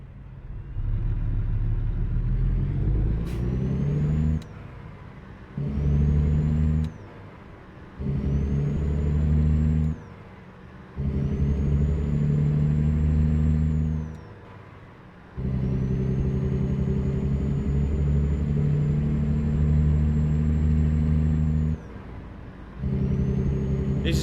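A Peterbilt 579 truck engine in American Truck Simulator drones loudly through a series of gear changes, each pull ending in a brief drop to near quiet before the low, rising engine note returns, with a thin whine climbing above it.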